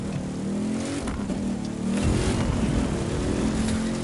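A DeLorean in the racing game The Crew 2 revs hard, its engine note climbing and dropping as it runs through the gears, loud and steady throughout with no talk over it.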